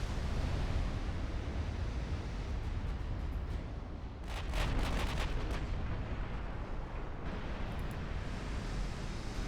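Heavy naval gunfire from battleships in Ultimate Admiral: Dreadnoughts during a large North Sea battle: a dense, continuous roar of distant booming salvos, with a cluster of sharper blasts near the middle, and no talking.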